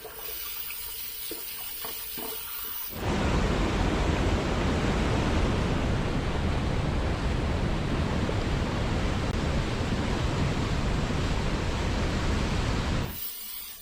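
A double-edge safety razor (Merkur 34c with a Feather blade) is rinsed under a running tap, a steady loud rush of water that starts after a few quiet seconds and runs continuously for about ten seconds before stopping.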